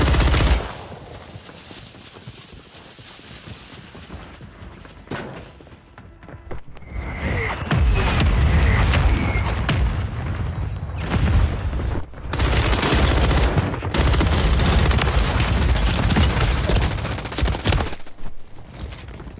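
Loud, dense automatic gunfire from a weapon in the battle royale game Warzone, coming in long sustained bursts with booms and thuds, after a quieter stretch at the start.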